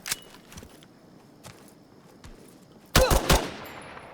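Gunfire in the extraction shooter game Incursion Red River: a few scattered, moderately distant shots, then a loud close burst of three rapid rounds near the end, with a tonal ring trailing off afterward and no talking.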